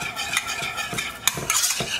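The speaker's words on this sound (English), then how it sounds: "I'm going to take these ingredients and I'm going to whisk it into this pot here." A whisk stirs honey mustard wing sauce ingredients, including hot sauce, in a pot, giving close, steady scraping and swishing strokes with a few metallic taps against the pot, and no talking.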